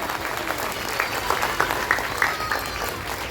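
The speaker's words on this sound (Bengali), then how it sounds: "সবাইকে জোরে হাততালি দেবেন" An audience at a Christmas carnival event in Kolkata bursts into applause to welcome guests, a dense wash of clapping from many hands that swells slightly and carries faint crowd murmur.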